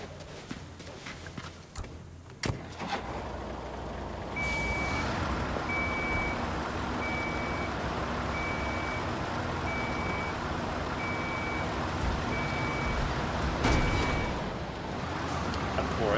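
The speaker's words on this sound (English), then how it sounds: "I'm going to move this crane also out of the way" A crane in Construction Simulator, on a wind power project, reverses with a regular series of about ten evenly spaced electronic beeps over a low engine hum.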